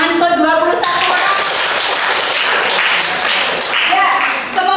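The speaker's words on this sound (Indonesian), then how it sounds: "Tepuk tangan untuk 21 orang" A classroom group applauding for 21 people, heard as loud, dense, sustained clapping, with voices calling out at the start and near the end.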